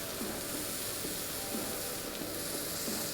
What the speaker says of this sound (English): Oh, you hear that sizzle, boys?